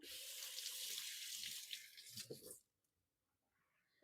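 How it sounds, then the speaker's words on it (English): Tap water runs steadily into a kitchen sink as hands are washed clean of brown sugar during baking, a broad splashing hiss that stops abruptly partway through, leaving near quiet. "I'm going to wash my hands because I do have some brown sugar on it"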